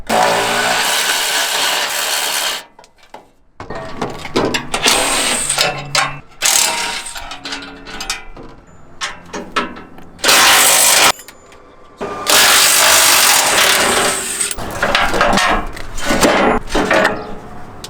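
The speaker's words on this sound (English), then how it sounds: "let's get our ratchet in there to take that loose" Ratchet loosening bolts on a MacDon FD2 header, with loud, close clicking bursts that stop and start over the span, separated by brief pauses and some metallic handling noise.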